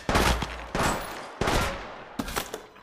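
Gunfire from the battle royale video game Apex Legends Mobile comes in three or four separate loud bursts of shots, each lasting around half a second, with brief gaps between them.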